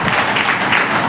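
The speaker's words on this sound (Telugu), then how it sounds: "గట్టిగా చప్పట్లు ప్రభుత్వం" Loud, dense clapping from a church congregation at a Sunday service fills the whole moment, steady and close, with no voices standing out.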